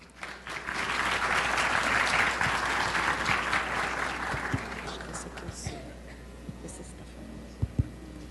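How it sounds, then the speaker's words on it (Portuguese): A conference audience claps steadily, the applause swelling then thinning out into scattered claps and murmurs. "Vamos aplaudi-lo?"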